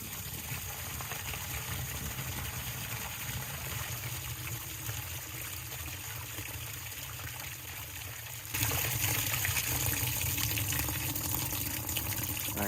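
Water draining out of a tank in a steady rushing, trickling stream that grows louder partway through, close and continuous, with no talking.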